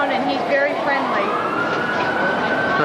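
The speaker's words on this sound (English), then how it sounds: "Here comes an ambulance." An ambulance siren wails along a Las Vegas street, its rising and falling tone sweeping clearly over traffic noise while people talk nearby.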